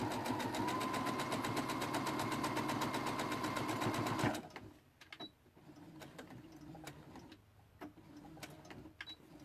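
A sewing machine runs back stitches along a bag, a fast steady mechanical whirr for about four seconds that stops abruptly, leaving quiet room sound with a few faint clicks and ticks.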